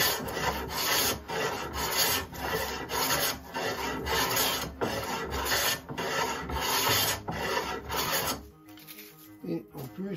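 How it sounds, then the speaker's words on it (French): A freshly sharpened hand plane shaves wood against the grain in long, steady rasping strokes, about eight close, loud passes with short pauses between, then it stops near the end. "le plaisir d'avoir un rabot affûté, regardez, ou plutôt écoutez."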